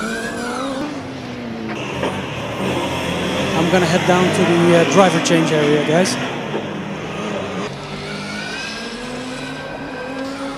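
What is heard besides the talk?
Valencia Formula Student race car engine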